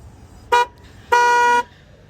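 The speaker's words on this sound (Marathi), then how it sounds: "तुम्हाला या हॉर्नचा आवाज ऐकवतो" A car horn honks twice nearby, a short toot followed by a longer, loud blast, with quiet background between.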